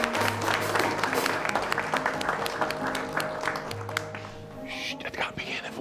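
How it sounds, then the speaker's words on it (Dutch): A crowd applauding at a carnival gathering, brisk clapping mixed with chatter and a low hum, gradually thinning toward the end. "Zullen we eens eventjes beginnen met een applaus voor jezelf,"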